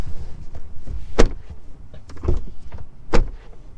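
The door of a 2025 Tesla Model Y, with double-glazed windows, shuts with two solid, dull thuds a couple of seconds apart over a low, murky cabin background.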